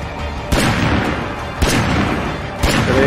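Three loud, sharp gunshots ring out in the video game State of Decay 2, spaced about a second apart, each with a booming low-end punch over a steady background of game ambience.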